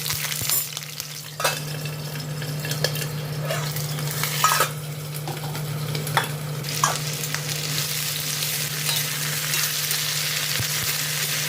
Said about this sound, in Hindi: आलू और परवल को ना थोड़ा सा मोटा मोटा काट करके इसे पहले थोड़ा सा फ्राई कर लिया